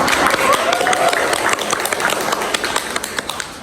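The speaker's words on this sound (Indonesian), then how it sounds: "Beri tepuk tangan yang meriah." Applause welcoming guests at a studio book discussion, dense clapping that starts loud and thins into scattered claps, with a voice briefly heard over it.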